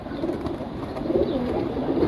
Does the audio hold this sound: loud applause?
no